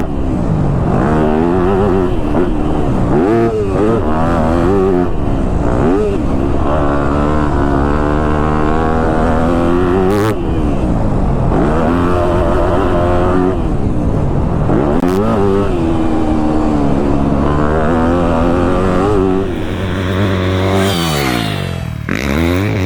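A Yamaha YZ250F Monster Energy Edition dirt bike is ridden close by, its engine loud and constant, climbing and dropping in pitch through repeated throttle blips and gear changes for the whole stretch.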